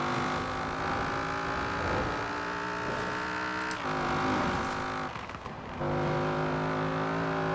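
A Camaro IROC Z engine in Forza Horizon 4 revs loud and close with a steady, buzzy tone, dipping briefly as gears shift and then pulling hard again.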